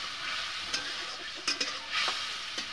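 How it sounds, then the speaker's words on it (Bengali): Mustard seeds frying in a hot pan over browned onions for a Bengali fish curry, giving a steady sizzle with a few sharp pops and crackles scattered throughout, close up and without talk. "আমি একটু ভাজিয়ে নেব সরষাটাকে।"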